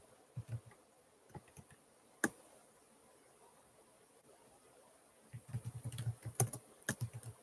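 Computer keyboard typing, scattered soft key clicks at first, then a denser burst of quick keystrokes near the end, fairly close and alone with no talk.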